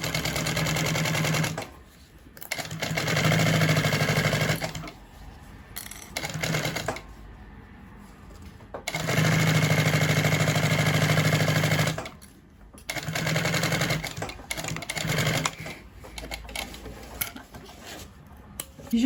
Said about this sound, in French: je repasse sur un point court et je couds avec une marge de 6 mm